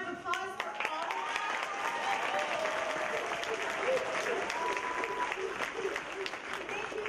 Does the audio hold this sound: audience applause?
yes